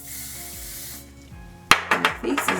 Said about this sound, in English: I wanna spray my hair